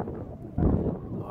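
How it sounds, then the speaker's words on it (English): Wind gusting across an exposed hillside on a Scottish hillwalk, a low rumbling buffet against the microphone that swells briefly mid-clip, with no voices. "It's kind of windy, but it's alright."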